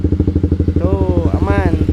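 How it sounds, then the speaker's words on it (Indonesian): A motorcycle with a manual clutch pulls away in first gear as the clutch is let out slowly, its engine chugging in a steady close pulsing rhythm while someone talks over it. "masukkan lagi guys gigi 1 ke depan, kemudian lepaskan kuplingnya pelan-pelan"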